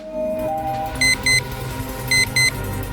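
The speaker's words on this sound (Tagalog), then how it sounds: "may nag-activate na timer. May kung anong gumingay dito." An activated timer beeps in sharp electronic tones, two quick double beeps about a second apart over a low background hum, with no one talking.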